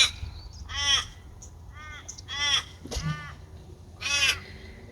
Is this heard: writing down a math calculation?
no